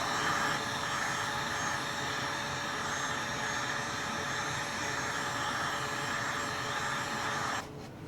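A heat gun blows steadily and loudly on craft foam to soften it for bending into cosplay arm bracers, a constant close whooshing roar that cuts off just before the end.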